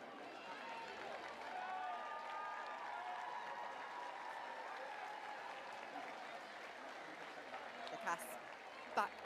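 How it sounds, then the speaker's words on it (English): Arsenal supporters applaud warmly at a women's football match against London City Lionesses, a steady patter of clapping from a nearby crowd section, with a commentator talking over it. "which is greeted with a warm round of applause from the Arsenal contingent just yards away"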